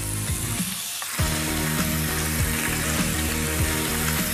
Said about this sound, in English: Parma ham fried nice and crisp like that is incredible.